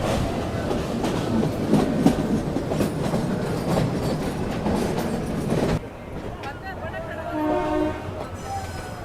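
A train on a scenic Rajasthan route clatters loudly over the rails with rhythmic clacking, then the sound drops and a distant horn or whistle sounds faintly toward the end.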